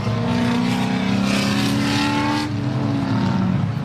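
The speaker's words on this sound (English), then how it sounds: "Is that the Alfa Romeo Levante?" An Alfa Romeo Levante drives past at a track day, its engine note rising and then fading as the car goes by, loud and close, with no talk heard.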